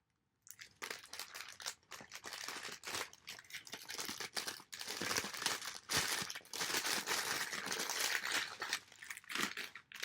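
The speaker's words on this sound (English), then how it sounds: "And the packaging on these are really loud." Loud, close crinkling and crumpling of plastic product packaging, continuous rustling bursts after a brief silent start, no talk.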